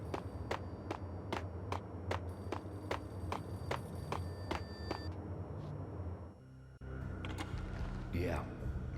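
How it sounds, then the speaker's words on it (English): A payphone rings in the Max Payne video game on Xbox Series X, regular repeated trills over a steady ambient bed, then stops and gives way to a noisier scene with a rising tone near the end. "A payphone started to ring."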